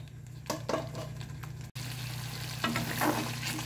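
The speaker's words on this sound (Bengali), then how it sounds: "এইবারে লো হিটে যতক্ষণ না মশলার কাঁচা গন্ধ যাচ্ছে ততক্ষণ পর্যন্ত আমি মশলাটা কষিয়ে নেব" Masala paste for a Bengali white curd katla fish curry being stirred and fried on low heat in a pan, a soft continuous sizzle with occasional scraping strokes and a steady low hum beneath, no talking.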